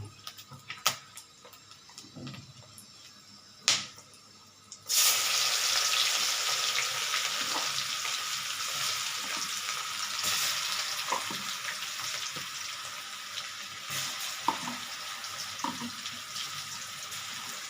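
Chopped garlic drops into hot oil with a sudden loud hiss, then fries in a steady, dense sizzle, with a few clicks and stirring taps before and during.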